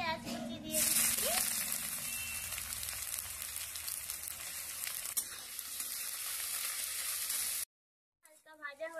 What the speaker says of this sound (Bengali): এখন আমি এর মধ্যে পেঁয়াজ কুচি দিয়ে দিচ্ছি।